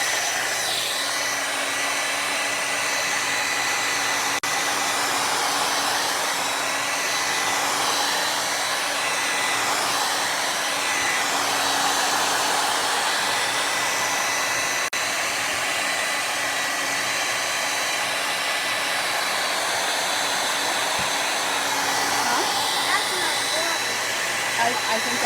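A hair dryer runs steadily and loudly throughout, drying chalk paste on a shirt, its constant whooshing roar with a slight whine holding unbroken for the whole stretch.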